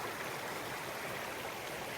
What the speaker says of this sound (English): we have this beautiful, fresh, running water